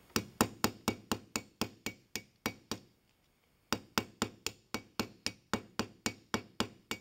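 Light, evenly spaced hammer taps peen a soft brass pin into the hinge of a Viking-age sword. A quick run of sharp metallic strikes pauses briefly, then resumes at the same steady rhythm.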